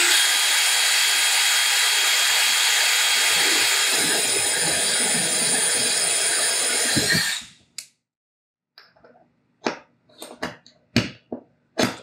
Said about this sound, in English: I'm going to drill a hole on one side and a hole on the other